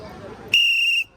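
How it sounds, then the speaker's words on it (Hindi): A single loud, shrill whistle is blown for about half a second, cutting in sharply over a background of crowd babble and then stopping abruptly. "ये बजा के दिखाएं सीटी"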